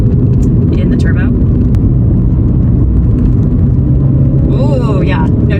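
2022 MINI Cooper S turbo engine pulling hard in sport mode, a loud continuous low rumble with rising revs, heard from inside the cabin while people talk over it.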